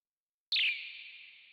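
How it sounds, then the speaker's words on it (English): Synthesized bird chirp: a single bright tone with a sharp onset that slides quickly downward, then holds as a steady ringing tail that slowly fades, alone in silence. "Bird!"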